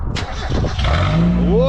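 Mk1 Mazda MX5 engine cranking and catching, bursting into a loud roar that rises in pitch as it revs, close up, with voices at the start.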